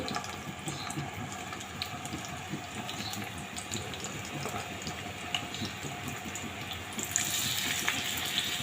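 Battered pieces sizzle in oil that is not yet very hot, a steady, soft crackling hiss that runs throughout, growing slightly brighter toward the end, with faint kitchen clatter and no clear speech.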